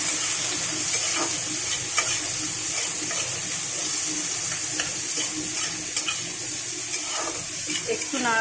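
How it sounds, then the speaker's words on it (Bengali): Shrimp, onion and green chili fry together in oil with whole cumin seeds. A steady close sizzle runs throughout, broken by repeated clattering stirs of the spatula. "একটু নাড়াচাড়া করে ভেজে নেব।"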